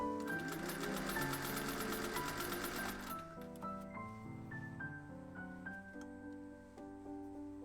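A sewing machine runs rapid, steady stitches while gathering fabric for a rectangle-piece dress, then stops after about three seconds, leaving soft melodic tones in the quiet that follows.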